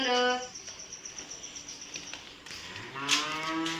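A young cow calf moos nearby, a short low call at the start and a longer drawn-out moo near the end, with insects chirping faintly in between.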